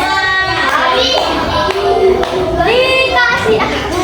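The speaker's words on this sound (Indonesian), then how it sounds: "Kita kasih tepuk wow dulu buat Mas." Schoolchildren in a classroom lesson clapping and chanting a rhythmic 'tepuk wow' cheer together, loud and close, with children's voices mixed through the claps.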